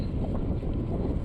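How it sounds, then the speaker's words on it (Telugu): Strong outdoor wind in Sweden buffets the microphone in a brief, steady, close rumbling rush with no other distinct sounds. "చాలా గాలి వస్తుంది, మీకు కూడా వినిపిస్తూ ఉంటుంది గాలి"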